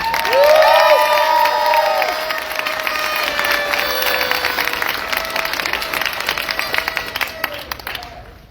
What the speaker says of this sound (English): I'd like to take it one more time to applaud Ms. Burke for her awesome job emceeing tonight